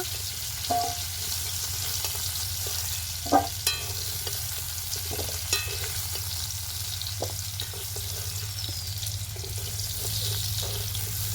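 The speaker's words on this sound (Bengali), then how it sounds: "আলুটা আমি খানিকটা ভেজে নেব খুব বেশি লাল করব না" Potatoes lightly frying in oil in a pan give a steady, even sizzle throughout, with a few soft knocks and scrapes of a utensil, close up and with no voices.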